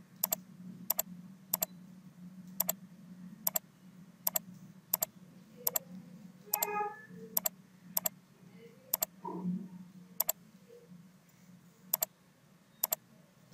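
A computer mouse clicks sharply while making a selection in Photoshop CS5, about a dozen crisp, evenly spaced single clicks over a low hum, with brief faint sounds between them.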